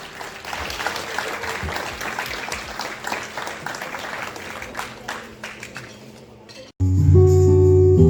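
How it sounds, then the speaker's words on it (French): An audience applauds steadily for several seconds in a lively hall, dense clapping that cuts off abruptly and gives way to loud music. "on peut les applaudir bien fort, s'il vous plaît"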